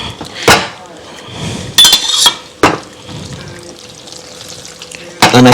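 Cooked homemade mac and cheese tipped from a heavy pan into a casserole dish, with a few sharp metallic clanks and scraping knocks spaced apart over a soft kitchen background.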